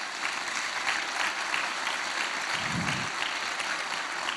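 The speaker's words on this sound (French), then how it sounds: "un petit un peu d'applaudissements" Steady applause from a crowd at a conference event, sustained clapping at an even level throughout with no voices standing out.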